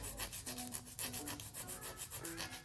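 Nail file rubbing back and forth beneath an acrylic practice nail, a steady run of quick, close, scratchy strokes with a dry sanding texture and no talking.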